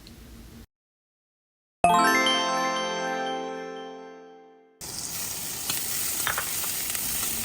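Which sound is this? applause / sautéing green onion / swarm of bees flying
sautéing green onion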